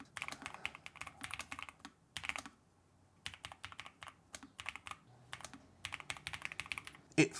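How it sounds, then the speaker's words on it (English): Rapid keystrokes on a mechanical keyboard fitted with Gateron V3 Nano Red switches, connected in 2.4 GHz wireless mode, tapping in quick bursts with short pauses between, close and fairly soft, with no talking. "how does it type? I've got the Nano Red switches, the new Gateron V3s"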